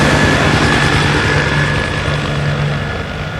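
A loud, steady police helicopter roar with a low rotor thrum and broad engine noise, holding constant and fading slightly toward the end.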